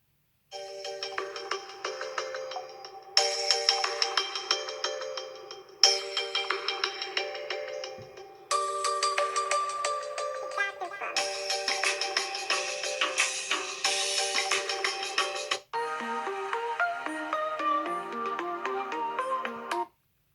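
A Samsung Galaxy S9 rings through its stereo speakers, a bright electronic ringtone melody playing in repeating phrases with short breaks between sections, close and clear with no voices.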